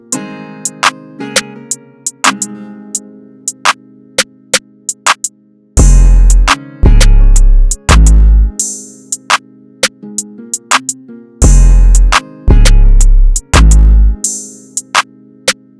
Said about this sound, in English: So with all that together, the whole beat sounds like this.